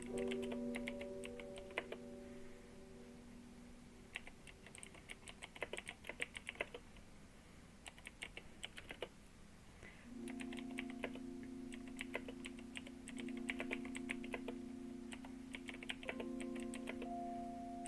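Computer keyboard typing clicks away in quick irregular bursts and steady runs, close and fairly quiet over a faint background hum, with no voices.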